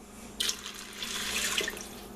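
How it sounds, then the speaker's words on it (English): Water starts pouring into a pressure cooker pot for bean soup after a brief pause and keeps flowing steadily, a soft continuous splash heard up close. "And then I'm going to add around 7 more cups of water."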